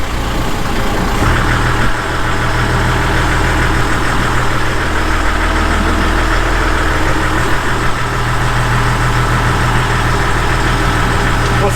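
A fishing boat engine in gear rumbles continuously at close range, holding a constant throaty drone with no clear rise in pitch.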